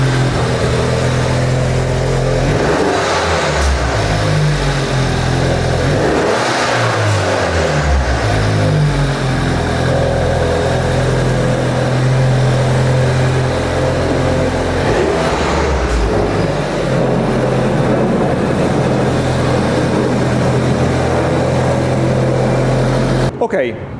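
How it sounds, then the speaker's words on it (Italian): A modified Suzuki Swift Sport with an aftermarket exhaust idles and revs, its engine note rising and falling in several loud pulls close by, with a voice heard faintly beneath it. "adesso Max accende un attimo la macchina, vi facciamo sentire il sound,"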